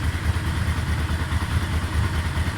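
A warmed-up Yamaha Vmax motorcycle engine idles close by, a loud, steady low throb with an even pulsing rhythm and faint mechanical clatter on top, no talking.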